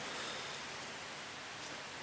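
Rain falling steadily outside a garage, a soft, even hiss of drops with no pauses, faint and distant.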